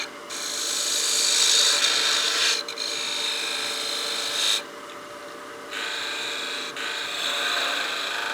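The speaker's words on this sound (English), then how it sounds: "we'll clean that up with our spindle gouge" A spindle gouge cutting wood on a lathe while turning a small bat house ornament, a loud, close, continuous rasping hiss that swells and drops off between passes, with brief breaks and no talking.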